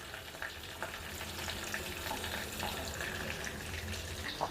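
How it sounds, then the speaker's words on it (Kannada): Garlic and green chili frying lightly in oil for mutton sambar, a steady close sizzle and crackle with a few sharper pops and small stirring clinks, no talking. "ಫುಲ್ ಡೀಪ್ ಫ್ರೈ ಮಾಡೋದಲ್ಲ, ಜಸ್ಟ್ ನಾರ್ಮಲ್ ಮೇಲೆ ಹುರ್ಕೋಬೇಕು."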